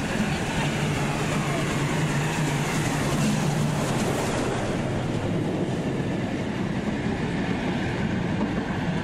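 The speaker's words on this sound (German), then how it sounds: "In relativ schneller Fahrt rollen wir Richtung Fähranleger." An old island railway train on Borkum rolls at speed toward the ferry landing, a continuous loud rumble and rattle of wheels and carriages heard from on board.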